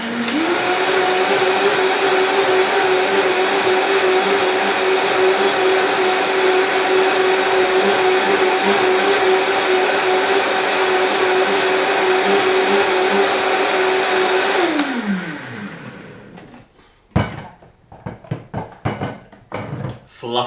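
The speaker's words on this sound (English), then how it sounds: "I'm just going to blend this so it's nice and smooth" High-speed blender whirring steadily while blending cashew nut milk, a loud close motor drone with a constant pitch that winds down as it switches off, followed by clatters and handling noise.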